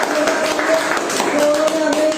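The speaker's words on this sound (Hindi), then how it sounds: "मैं एक बार जोरदार तालियां चाहूंगा" An audience at an academy information seminar claps briefly, a quick patter of hands with a voice speaking over it.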